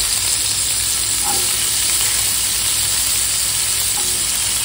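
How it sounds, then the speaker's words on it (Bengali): Bottle gourd stalks fry with five-spice in a pan, a steady close, loud sizzle filling the whole stretch with a couple of faint utensil taps and no voices. "এবার তো ডাটাগুলো ফ্রাই করে নেব।"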